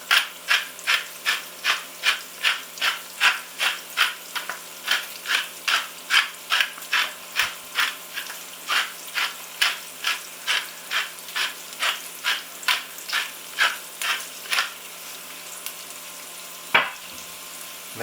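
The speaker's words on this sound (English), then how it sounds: "We're going to add some salt and a good amount of black pepper." Black pepper is ground in a pepper mill over a pan, with a steady run of about thirty crisp, rhythmic grinding clicks, close and fairly loud, then a pause and a brief clatter near the end.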